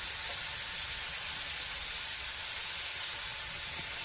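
Loud, steady hiss of an ingredient dropped into hot oil, sizzling continuously and close up with no break and no voices.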